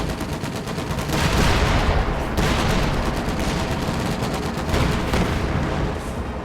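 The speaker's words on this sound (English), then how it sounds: "Someone's calling artillery down on this guy." Heavy artillery barrage in a Company of Heroes 2 battle, a loud continuous pounding of shell fire and rapid gunfire layered into a dense roar that swells and eases, with no talking.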